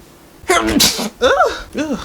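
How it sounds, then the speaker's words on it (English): A single loud sneeze bursts out, followed by a couple of short vocal sounds, close to the listener. "I'm about to sneeze."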